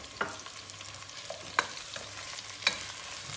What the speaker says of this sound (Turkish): Soğanları dağıtmadan bunları güzelce bir kavuracağız.